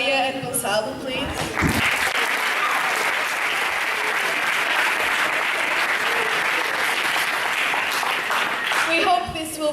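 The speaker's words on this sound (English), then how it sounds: "a round of applause to Beatriz, Mariana, Maya, and Gonçalo, please" An audience at a student talks event on human rights applauds performers, sustained dense clapping rising after a spoken line and carrying on steadily, with voices at the start and end.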